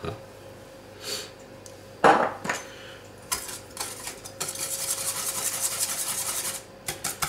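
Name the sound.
stirring sugar and cream in a bowl for rhubarb tart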